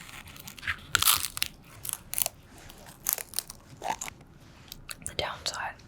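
Edible paper shaped like a pink dollar bill crunched and chewed close to the mic in soft, irregular bites, with crisp crackly snaps between quieter mouth sounds.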